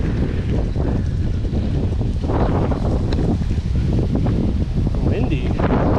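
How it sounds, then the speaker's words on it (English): Gusting wind buffets the microphone on a mountain bike trail with a steady, loud rushing roar, and a faint voice sits underneath. "Windy."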